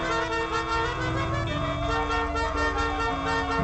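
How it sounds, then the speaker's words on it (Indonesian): A car horn honks in a steady, sustained blare through the whole stretch, loud and close in Indonesian street traffic. "Biarin dia pakai klakson."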